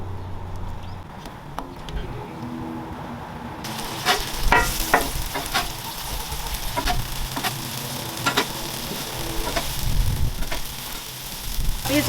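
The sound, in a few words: sliced tomatoes sizzling on a griddle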